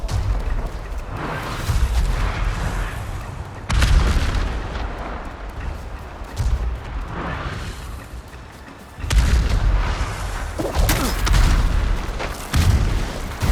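Enemy cannon fire in Ghost of Tsushima, heavy booms landing every few seconds with rumbling tails, loud and close amid battle noise.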